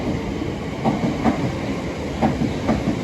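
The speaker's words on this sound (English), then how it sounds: "Next train to pass by, bound for Littlehampton" Train passing through Selhurst station bound for Littlehampton, a steady close rumble with rhythmic clickety-clack of wheels over rail joints repeating as the carriages go by.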